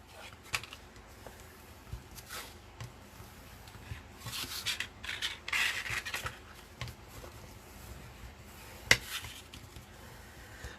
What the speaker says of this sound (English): So now I'm going to burnish those, make sure I get a really, really, really good sharp crease.